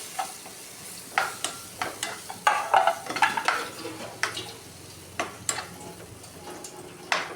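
Ripe banana sautéed in a pan for an avalum pazhavum snack, with repeated close scraping and stirring clinks of a spoon against the pan over a light steady sizzle, no talk.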